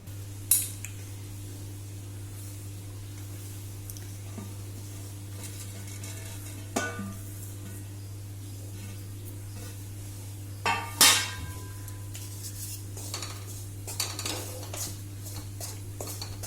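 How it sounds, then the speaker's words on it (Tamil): Homemade puttu flour being dry-roasted in a pan, with sparse metallic clinks and scrapes of a utensil against the pan at irregular intervals over a low steady hum, no talking. "இதை இப்போ நம்ம கொஞ்சம் வறுத்து எடுத்துக்கலாம்"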